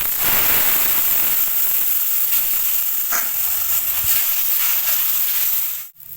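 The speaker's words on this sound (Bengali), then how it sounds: "গুঁড়ো মশলা যাতে পুড়ে না যায় একটু জল দিয়ে দেবো।" Ground spices and water sizzle in a hot pan for a Bengali kabuli chana curry, a steady loud hiss running throughout with no talk and a brief dip near the end.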